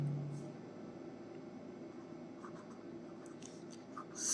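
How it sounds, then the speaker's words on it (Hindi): Chalk or marker writing on a classroom board during an English grammar lesson, a steady faint scratching texture running through the clip, fairly close and alone with no talk over it. "आगे देखिए मैं लिखता हूँ"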